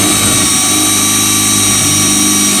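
Power saw cutting a straight line through a cornhole gameboard, a loud continuous motor whine holding steady throughout.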